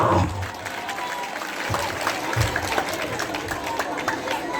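Church congregation applauding during a gospel service: sustained clapping from many hands at moderate distance, mixed with crowd murmur and a voice speaking over it.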